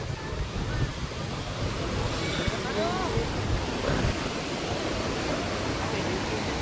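Sea waves wash against the shore by a temple wall at Uncha Kotda, making a steady broad roar with wind noise, close and continuous.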